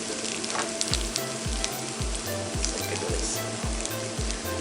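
Curry powder, three tablespoons, sautés with an onion mixture in a pan, a dense steady sizzle close by with a low rhythmic thumping pulse repeating roughly every half second throughout, no talk.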